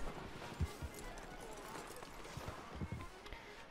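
Horse hooves clip-clop on the ground in Red Dead Redemption 2, as a few soft, uneven thuds under the game's ambient sound and quiet speech.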